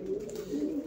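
A male pigeon in Vedado, Havana, gives a short, low, throaty coo that rolls on steadily for under a second. The sound is fairly close and clear, with faint background noise and no speech.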